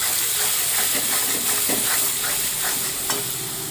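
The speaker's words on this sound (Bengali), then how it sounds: "খুব ভালোভাবে মশলাটা কষে নিতে হবে" Spice masala with Kashmiri chilli powder and salt being sautéed in oil for a rithe fish curry: loud, continuous close sizzling with soft stirring strokes throughout.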